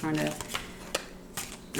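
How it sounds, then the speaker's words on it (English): A few quick papery riffles of small cards being shuffled, close up, in short bursts with pauses between. "trying to just get a little shuffle in"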